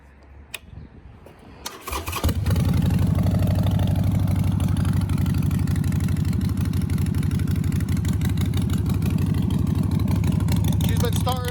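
A Harley Davidson Buell chopper motorcycle engine cranks and catches after a few seconds of quiet handling noise, then settles into a loud, close, steady idle with a rhythmic throb.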